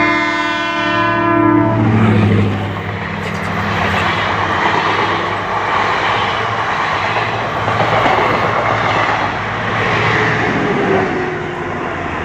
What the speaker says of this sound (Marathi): गेली बघा ट्रेन